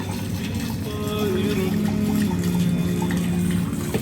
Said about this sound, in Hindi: पानी की आवाज़ आप सुने।